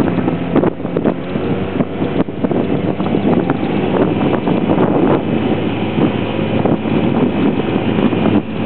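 A 1956 Evinrude 5.5 Fisherman outboard motor drones steadily under throttle, pushing a small boat upstream against a fast current. The close, continuous engine noise is mixed with buffeting wind rumble on the microphone.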